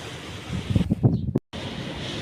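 Strong wind storm roaring outside a room in Saudi Arabia: a steady, loud broadband rush with a rumbling surge midway, then a brief sudden dropout before the blowing resumes.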